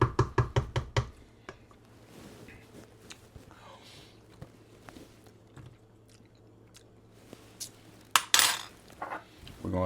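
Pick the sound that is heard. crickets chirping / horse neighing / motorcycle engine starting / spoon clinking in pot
spoon clinking in pot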